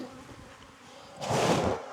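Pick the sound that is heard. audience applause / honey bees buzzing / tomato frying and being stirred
honey bees buzzing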